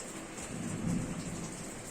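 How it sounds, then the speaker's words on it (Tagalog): A low rumble of thunder swells and fades under steady rain, distant and muffled, with no voices. "Kumukulog pa."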